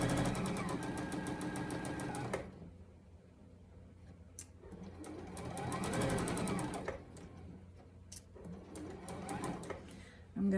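Domestic sewing machine stitching fabric in rapid mechanical bursts, a loud steady whirring run, then pauses filled with a quiet voice and handling noises before shorter stitching bursts resume.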